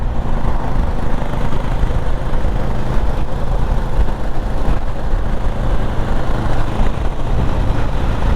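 Motorcycle engines on a fast road ride among a large group of bikes around Union Mills, a loud, continuous roar of engine and wind noise close to the rider, without talk.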